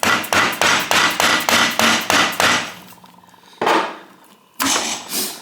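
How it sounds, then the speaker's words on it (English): Soft hammer blows striking Panhead engine parts during a teardown, about ten quick, evenly spaced taps in a row, then a pause and two more louder separate strikes, close and clear with no talking. "So a nice little blow with a soft hammer."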